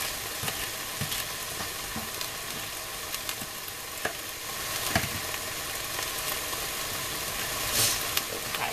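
Beef or lamb curry with celery sizzling steadily in a pan as it is stirred, with occasional scraping clicks from the utensil; a broad constant hiss sits close and fairly loud, with no voices.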